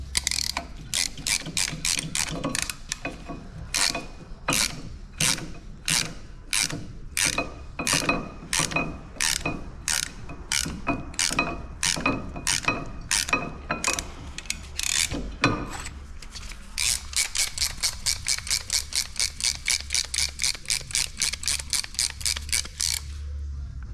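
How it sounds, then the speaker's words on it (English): A caliper compressor tool ratcheting on a 2017 Hyundai Elantra front brake caliper: a long run of steady, sharp metallic clicks, close and distinct, then a faster, denser burst of ratcheting. "Caliper compressor. Makes life a lot easier."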